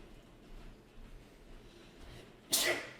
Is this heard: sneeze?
yes